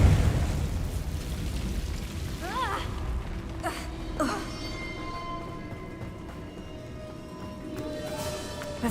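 A Confringo spell goes off in the Hogwarts video game, with a couple of sharp blasts near the middle over continuous game ambience and sustained tonal music.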